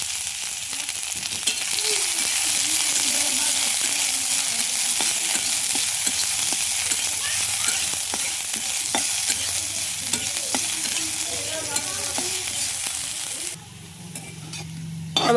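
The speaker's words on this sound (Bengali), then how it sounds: "আমি অল্প করে পেঁয়াজ ভেজে নিব এই তেলের মধ্যে" Onions sizzle steadily, lightly frying in hot oil, a loud continuous frying hiss with occasional stirring scrapes, no voices.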